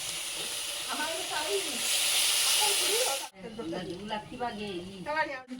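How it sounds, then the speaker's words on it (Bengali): Water poured into a pan of fried snails bursts into a loud, steady steamy sizzle for about three seconds, then cuts off abruptly as a person speaks over the quieter pan. "এখন ঝোলের জন্য জল দিয়ে দেবো"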